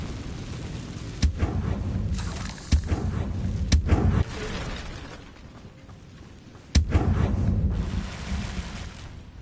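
Incendio fire spell cast in Hogwarts Legacy: several sharp, loud bursts, each swelling into a roaring, rumbling whoosh, repeated across the span with a deep sustained rush between them.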